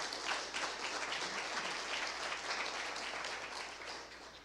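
Conference audience applauding at the opening ceremony of the 2023 international patent court conference, a dense, even wash of many hands clapping at moderate distance that fades slightly toward the end.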